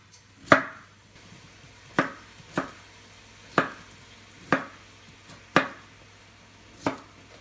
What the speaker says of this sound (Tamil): இப்போ வெங்காயம் எல்லாம் வதங்குற டைமில் பொட்டேட்டோவை பீல் பண்ணி இந்த மாதிரி கட் பண்ணி வச்சுக்கலாம்